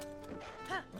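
Epona, a horse in the video game Zelda: Tears of the Kingdom, gives a brief close neigh with clip-clop hoofbeats over steady game ambience, lasting about a second.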